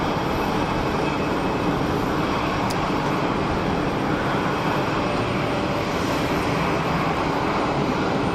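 A Pegasus neo airliner rolls down runway 04 at Geneva Airport for takeoff, its engines giving a loud, steady broadband roar that holds at an even level without any break.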